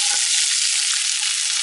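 Vegetables sizzle loudly in a hot oiled pan for a stir fry, a dense continuous hiss with faint pops, close and steady with no talk.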